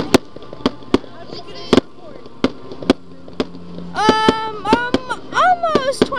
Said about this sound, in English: That last one's pretty cool. Same fireworks.